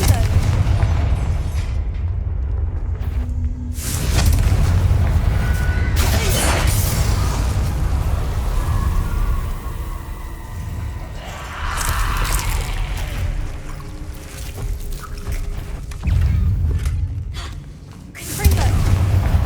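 Blasting-spell explosions from Hogwarts Legacy boom repeatedly across a busy fantasy combat scene, heavy low rumbles with crackling debris, continuing loud throughout with a voice calling out between hits.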